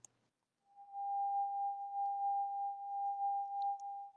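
A steady pure tone extracted from vibro-acoustic test signals holds one constant pitch for over three seconds after a brief click, clean and isolated against silence.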